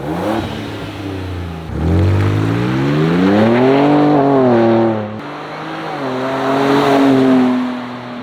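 Ford Ranger Raptor in normal drive mode revs and accelerates in two loud pulls, each pitch climbing steadily through the gears with a short break between, heard close and without talk.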